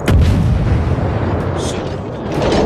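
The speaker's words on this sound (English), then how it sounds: "Lock on and fire." Naval guns boom while firing at destroyers in a video game, heavy low rumbling blasts filling the mix with a dense, continuous roar and a brief higher clatter midway.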